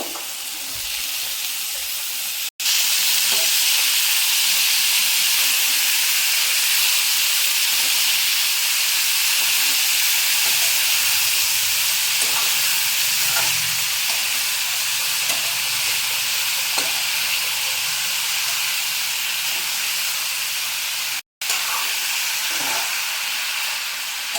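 Ridge gourd and potato fry in a tomato masala in village-style cooking, a loud, continuous steamy sizzle filling the whole stretch with faint stirring underneath and two brief dropouts, no voices.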